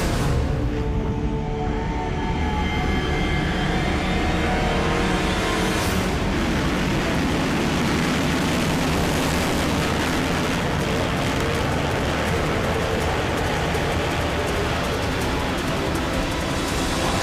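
A 350cc motocross bike launching off the start line in an outdoor race, a loud, dense engine roar building sharply around the start and holding steady among other bikes, with no speech.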